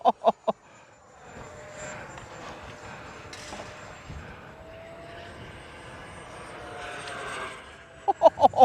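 An FMS Rafale 80mm electric ducted-fan RC model jet makes a distant airborne whoosh that swells and fades as it passes overhead in a crosswind. Short thumps open and close the stretch.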